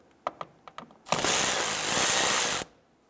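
A power tool spins a 10mm socket to loosen the exterior mirror nut on a 2009-2015 Honda Pilot, a loud steady whir lasting about one and a half seconds after a few light clicks.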